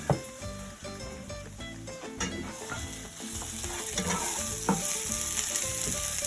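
Onions sizzling and crackling in a frying pan for a Spanish omelette, a steady close frying hiss with occasional stirring clinks and scrapes.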